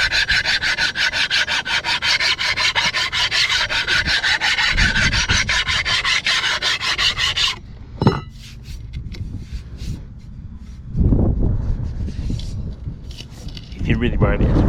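An old chainsaw bar being dressed with a file gives rapid, rhythmic metallic rasping strokes, close and loud for several seconds, then pauses broken by a few scrapes and handling knocks before filing resumes briefly.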